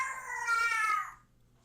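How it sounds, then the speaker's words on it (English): A cat lets out one drawn-out, fairly loud meow that rises and then trails off, heard on its own against a faint background hum. "shut your damn cat up"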